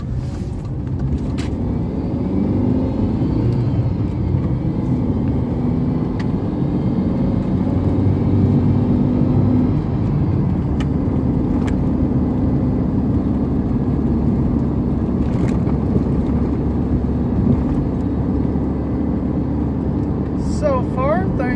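A Volkswagen Jetta drives along steadily, its engine and road rumble forming a continuous low drone throughout, with occasional faint clicks and a brief rattle near the end.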